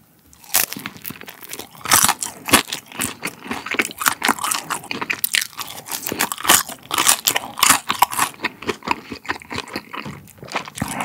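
Close, loud crunching bites and chewing of pan-fried Korean dumplings served with sweet and sour fried pork, dense and continuous crisp crackles with no talking.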